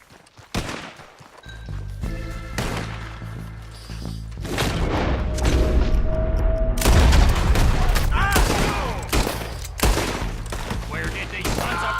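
Gunfire in Red Dead Redemption 2, a loud flurry of overlapping shots and booming blasts close by, with bursts building into a dense barrage and a voice calling out over the shooting.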